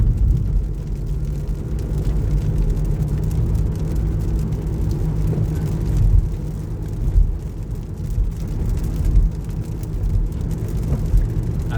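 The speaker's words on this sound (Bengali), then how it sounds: "বৃষ্টির মধ্যে আমার কাছে গাড়ি চালাইতে খুব ভালো লাগে।" A car drives through rain in Jeddah, Saudi Arabia, with strong wind, producing a steady low road and engine rumble with broadband wash that swells briefly in places, heard from inside the vehicle.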